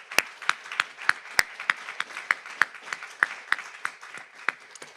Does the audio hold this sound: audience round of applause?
yes